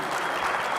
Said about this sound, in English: I would love for everybody to give a round of applause for 2 creators